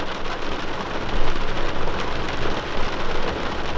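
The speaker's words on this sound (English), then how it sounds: "it's really raining bad as hell right now." Heavy rain pours down in a dense, constant hiss, with low rumbling swells underneath; no voices.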